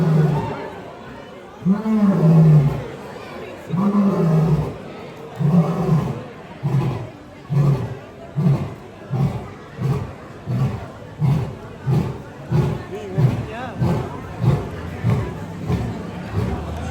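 A white lion roars repeatedly at a Taman Safari animal show, starting with long, deep groaning roars that shorten into a rapid series of grunting pulses, while the audience murmurs and chatters in the background.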